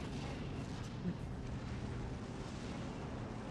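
Bombs strike in the WWII strategy game Steel Division II, producing a steady, heavy low rumble of blasts and artillery that fills the whole stretch with only slight swells.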